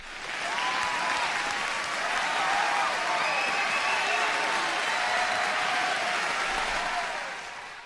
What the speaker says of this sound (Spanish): un gran aplauso para todos